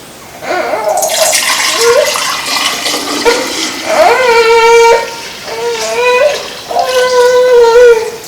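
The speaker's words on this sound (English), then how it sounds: "I'm just going to take and pour this into the glass jars." Strained liquid is poured into glass jars, with a rising gurgling pitch as each jar fills, heard in several separate pours close up in a home kitchen.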